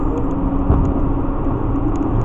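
An 18-wheeler truck engine roars continuously and loudly up close, a steady deep rumble with slight surges throughout.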